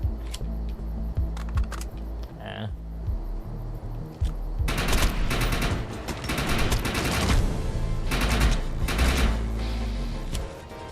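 Assault rifle gunfire in the Xbox One game Defiance 2050, loud sustained automatic bursts and dense rattling volleys close up over constant game background noise.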